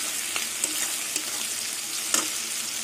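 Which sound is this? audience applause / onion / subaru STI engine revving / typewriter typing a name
onion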